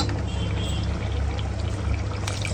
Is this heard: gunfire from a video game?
no